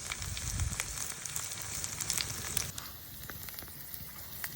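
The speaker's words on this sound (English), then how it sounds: "But look at them sizzling away" Food sizzling on a grid holder over an open wood fire, a steady crackling hiss with low rumbling flame noise underneath, loud and close throughout with no voices.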